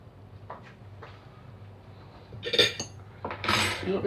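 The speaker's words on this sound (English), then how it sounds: "I'm going to dish it up." Smoked haddock and coconut kedgeree being served onto plates, with a spoon scraping and clinking against a pan and crockery, a few light taps and then louder scraping clatter, close by, no talking.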